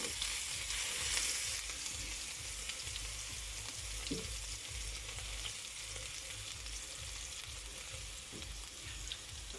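Garlic sautéing in a pan for a Kapampangan dish of ginisang ampalaya, a steady close sizzle with faint stirring, no voices.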